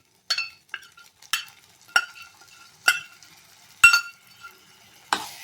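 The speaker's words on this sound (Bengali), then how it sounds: "ভালোভাবে মশলাটা কিন্তু আমি কষিয়ে নেবো যাতে কোনো কাঁচা স্মেল না থাকে" Spice paste for badshahi chicken is stirred in a hot pan with a spoon, giving about seven sharp, evenly spaced scraping clinks over a soft, steady sizzle.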